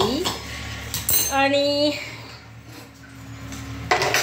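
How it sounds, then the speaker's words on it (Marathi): A metal cooking pot is set down on a home stove with clattering clinks of cookware, mixed with a woman's speech in a kitchen. "कढई उतरून घेतली आणि आता ह्यावर पातीला चढवते मी"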